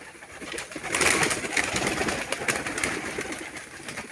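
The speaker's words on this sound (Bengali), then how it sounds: "ওনার খামারে আমরা বিভিন্ন ধরনের কবুতর দেখতে পাচ্ছি" Pigeons of various breeds coo steadily at a farm, a soft continuous murmur of overlapping calls with no talking over it.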